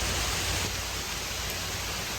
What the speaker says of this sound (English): But a nice steady rain